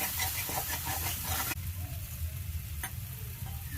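Masala paste for an egg curry fries in oil in a home kitchen pan, a close, steady sizzle and crackle that drops in intensity partway through, with a faint clink near the end.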